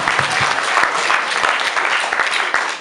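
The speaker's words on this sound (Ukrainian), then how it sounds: "Ще ще оплесків." Loud, dense applause from a crowd at a KVN comedy show, sustained and even throughout with a few sharper claps standing out, and no talk over it.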